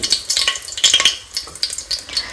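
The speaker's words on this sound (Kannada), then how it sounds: "ಸೊ ಇದಿಷ್ಟು ಫ್ರೈ ಮಾಡಿಕೊಂಡು ನೆಕ್ಸ್ಟು ಆನಿಯನ್ ಹಾಕ್ಕೊತೀನಿ ಹಸಿರು ಮೆಣಸಿನ್ಕಾಯಿ" Onion and green chillies fry in a pan for tomato rice, giving a crackling sizzle broken by close, irregular stirring scrapes with no voices.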